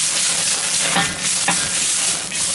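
Onions stir-fry in a very hot wok set on a Big Green Egg ceramic grill, a loud continuous sizzle broken by a few scraping stirs, close up with no talking.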